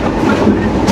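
The broad-gauge Rupsha Express rushes along at speed with a loud, steady rumble and rattling clickety-clack of the wheels on the rails, continuous and close, with no voices.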